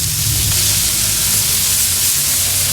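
Steak sizzling on a Kamado Joe grill, a steady loud hiss and crackle running unbroken throughout, with no talk.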